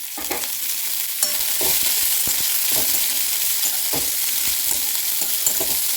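Steady hissing sizzle of spices and curry leaves tempering in hot oil, with intermittent stirring clatter throughout, close and fairly loud.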